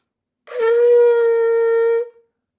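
A single sustained shofar blast (a shevarim-style call), steady and bright, held for about a second and a half before cutting off cleanly, with no talking.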